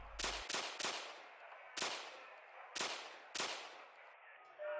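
Gunfire in the emergency-dispatch game 911 Operator: six or seven sharp, loud shots in irregular bursts, some doubled closely, each with a short decaying tail.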